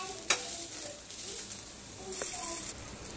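Cluster beans roast in a pan, giving a soft, steady sizzle with a couple of sharp scraping stirs at close range and no talking.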